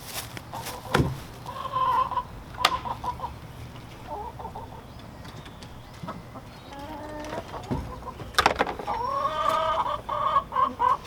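Hens cluck and squawk in a neighbor's backyard chicken coop, with a run of scattered close calls and a louder burst of squawking near the end, and no one talking.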